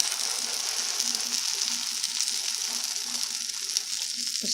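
Steady soft sizzling of an egg and cheddar pita frying in a pan, a continuous gentle crackle with faint scraping now and then.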